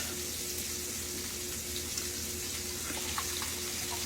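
Unsalted chicken broth pours steadily into a crockpot, a continuous liquid splash with no talk over it.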